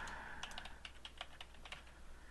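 Rapid typing on a computer keyboard while working in Adobe After Effects, a quick run of light, close key clicks over faint room hiss, with no talking.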